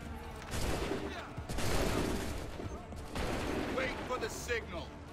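Musket volleys in the video game Assassin's Creed III crack out as loud, dense fusillades of overlapping shots, in bursts separated by short gaps, with shouted commands among the gunfire.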